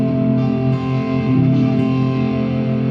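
A single sustained electric guitar chord built from pentatonic scale notes, ringing steadily with distortion and effects, loud and alone.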